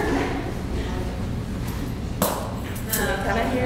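An echolocation demonstration toy hits the floor once with a short, sharp knock and a quick ringing tail. It sounds over a steady background hum with people talking nearby.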